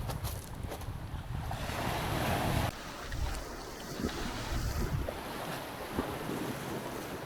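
Ocean waves splashing on the shore at Geoje Do, a continuous roaring wash of surf that swells and recedes, mixed with gusty wind buffeting the microphone and no voices.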